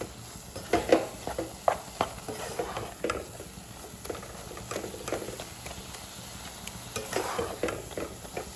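Spoon stirring grated beetroot and coconut in a hot pan, soft scraping and light clinks repeating irregularly over a faint sizzle, close and fairly quiet.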